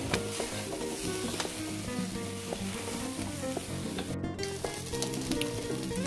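Bread coated in egg mixture fries on high flame, giving a steady, dense sizzle that stays loud and close throughout, with brief scraping or clinking sounds now and then.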